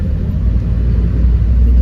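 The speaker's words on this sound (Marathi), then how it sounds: "आता काय ट्रॅफिक लागलं" Road traffic rumbles loud and close, a steady low roar of passing vehicles with no pauses.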